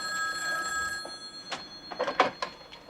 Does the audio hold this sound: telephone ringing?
yes